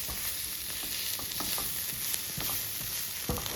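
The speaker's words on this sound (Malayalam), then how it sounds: "ഞാൻ നല്ലോണം വഴറ്റും ഉള്ളി കേട്ടോ." Onions being sautéed in a pan for a curry in a home kitchen: a soft, continuous sizzle broken by scattered clicks and scrapes of stirring, close and fairly quiet, with no voices.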